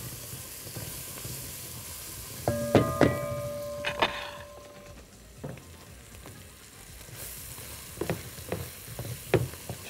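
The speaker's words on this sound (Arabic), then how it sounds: "مش عايزين البصل يلزق، عايزينه يدبل ويستوي" Onion softening in a pan for a fish, vegetable and rice dish gives a soft, steady sizzle, broken by a cluster of sharp utensil knocks and clinks early on and a few scattered taps later.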